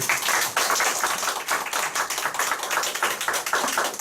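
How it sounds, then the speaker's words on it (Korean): Steady applause from a seated group at a company meeting, dense overlapping hand claps that carry on evenly for several seconds, fairly close and continuous with no talk over it. "일단 박수 들어왔습니다."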